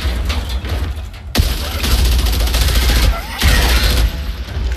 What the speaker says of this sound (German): das waren meine letzten 19 Schuss